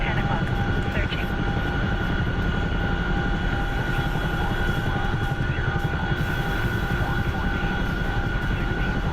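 A small-engine helicopter that flies like a Robinson, in a flight game, produces a loud, steady rotor and engine drone that holds unchanged from start to finish.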